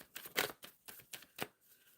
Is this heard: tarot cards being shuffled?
yes